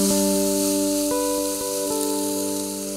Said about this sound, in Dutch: En nu laten we dat mooi grillen.